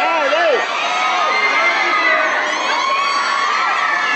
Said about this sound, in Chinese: 元彬一现身，现场粉丝又再起哄啦！